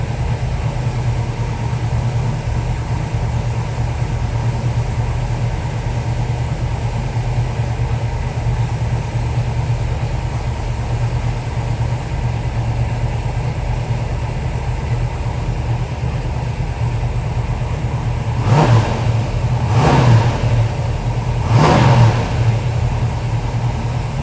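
A 1971 Plymouth Hemicuda's Hemi V8 idles with a steady, loud, low rumble, then gives three short revs near the end.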